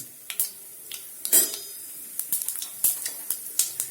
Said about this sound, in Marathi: इथे एका पॅनमध्ये मी तेल गरम करून घेतलं आहे आता याच्यात आपण मोहरी आणि जिरे